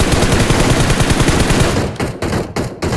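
Rapid automatic gunfire in a battle royale video game, a dense continuous burst of shots that runs loud for about two seconds, then breaks into a few separate closing bursts.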